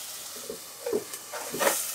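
Mushrooms softening in a frying pan over turned-down heat, a soft continuous sizzle broken by a few brief stirring scrapes and bumps, with no speech.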